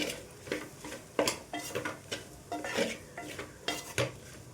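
Egg fried rice with vegetables and scrambled egg being stirred and tossed in a pan, rhythmic scraping and clinking of a spatula against metal over a soft sizzle.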